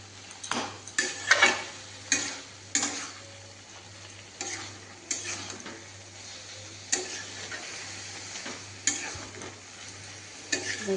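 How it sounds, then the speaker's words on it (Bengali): Grated coconut and pumpkin stir-fried in a pan, a soft steady sizzle broken by repeated scraping clinks of a spatula against the metal, irregular strokes at close range with no talking. "এবার আমি ভাজা ভাজা করব"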